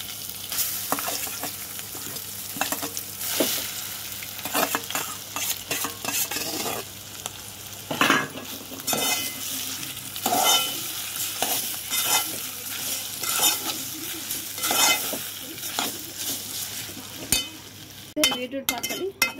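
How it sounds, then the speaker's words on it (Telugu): Crushed beetroot chutney frying in a pan with curry leaves, stirred steadily: continuous sizzling broken by repeated scraping stirs and light clinks of a utensil against the pan, close and fairly loud, with no talking. "ఇప్పుడు దంచుకున్న బీట్రూట్ పచ్చడి అయితే దీంట్లో వేయాలి."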